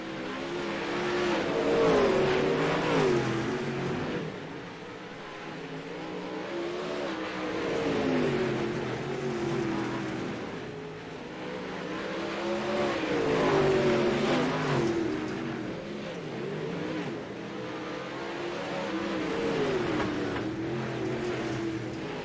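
Race cars lapping the Fairbury Speedway dirt track, engines swelling and fading as they pass with rising and falling revs, a loud continuous roar with no talking.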